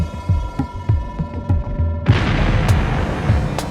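A player explosion effect goes off in a Unity Minecraft-style game. Low rhythmic throbbing pulses give way midway to a loud, sustained burst of broad rumbling noise.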